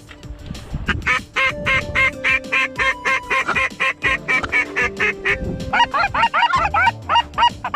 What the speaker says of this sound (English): Two ducks.